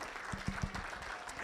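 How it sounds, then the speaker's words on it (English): Brief, light applause from a small audience at a chamber of commerce member meeting, soft scattered claps with a few louder hits and a short hum. "How about a round of applause for these folks?"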